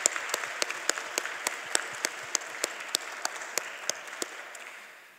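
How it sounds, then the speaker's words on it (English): Conference audience at a closing plenary session gives a round of applause, steady clapping punctuated by regular sharper claps, moderately distant and gradually tapering off, with no talking. "I think we can have a round of applause"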